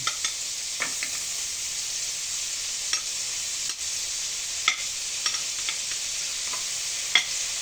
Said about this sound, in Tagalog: ilalaglag ko na po ang ating bawang